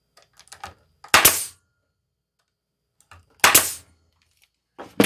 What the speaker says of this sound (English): shoot the staples in below that 19 inches